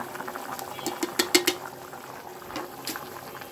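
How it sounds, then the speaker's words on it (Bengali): Cumin seeds going into liver cooking in a pan, with a brief run of close crackling sizzles and clinks over a steady bubbling hiss. "এই তো এখন জিরা দিয়ে দেব।"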